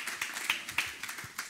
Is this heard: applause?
yes